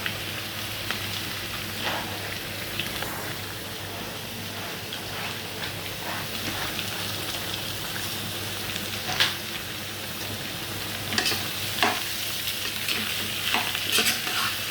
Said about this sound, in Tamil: பீட்ரூட்டை போட்டு வெங்காயம், பச்சை மிளகாய், கடுகு, வெந்தயம்லாம் போட்டு தாளிச்சுக்கிட்டு கொஞ்சம் லைட்டாக பீட்ரூட்டை கொட்டுவோம்